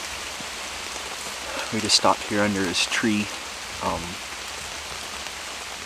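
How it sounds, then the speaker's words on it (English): Steady rain patters down in a Washington forest during an elk hunt, a constant soft hiss that continues while someone speaks briefly beneath the shelter of a tree. "Well, it's currently still raining quite well."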